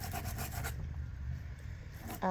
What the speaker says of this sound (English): I am gonna come through and add in some, like, scuffy sanding bits here